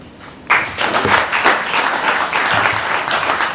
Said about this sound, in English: And you people who clapped